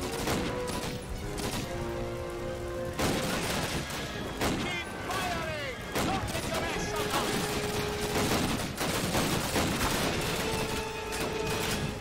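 Rapid rifle fire from a semi-automatic weapon in Call of Duty: United Offensive, a World War II shooter, with quick successive cracks amid other battle gunfire and explosions while a player talks throughout.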